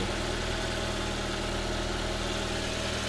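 A car engine idles steadily during an oil and oil-filter change with radiator replacement, a constant close rumble with no breaks and no talking.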